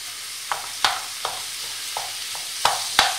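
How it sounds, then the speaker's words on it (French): Minced meat browns in a pan with paprika and cumin while being crushed, giving a soft background sizzle broken by about seven sharp scraping stirs and clacks at uneven intervals. "Je laisse revenir tout ça en écrasant régulièrement"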